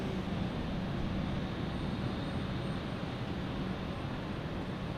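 De Havilland aircraft in flight near London City Airport, a steady distant broadband engine roar with no breaks and no talking.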